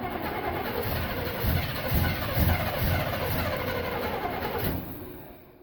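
A 1968 Chevy 396 big block engine cranks over steadily with a rough, rhythmic churning, fairly loud and close, then stops toward the end.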